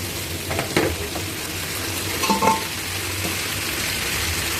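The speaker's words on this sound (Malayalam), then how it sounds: "അപ്പോൾ നമ്മൾ 2 സൈഡിൽ മറിച്ചിട്ടിട്ട് ഇങ്ങനെ ഫ്രൈ ചെയ്തുകൊണ്ടിരിക്കുകയാണ്" Masala shawai frying in a hot pan on high flame after being turned on both sides, a steady sizzle with a couple of brief clinks and stirring scrapes, close and alone without talk.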